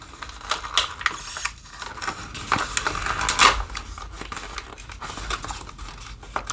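Crinkly plastic of a Folgers ground coffee bag being pulled and torn open, a run of close, sharp crackles and rips with a louder burst midway.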